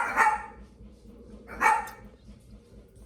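Two separate barks from dogs at home, sharp and fairly close, about a second and a half apart, with a quiet murmur of a voice in the background.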